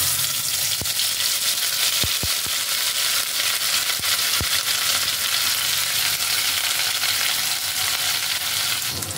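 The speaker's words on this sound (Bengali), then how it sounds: "আবারও কড়াইতে নিয়ে নিয়েছি খানিকটা সর্ষের তেল। এর মধ্যে এবার দিয়ে দিচ্ছি পেস্ট করে রাখা পটলটা।" Pointed gourd paste sizzles in mustard oil in a wok, a dense, steady, close frying hiss with a few sharp clicks of stirring and no talk.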